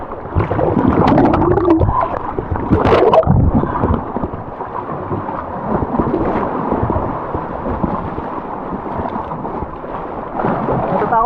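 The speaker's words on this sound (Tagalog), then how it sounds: "Lakas ng alon." Strong sea waves break and churn at a swimming spot on Bantayan, rumbling loud and close at the start before settling into an ongoing wash of water.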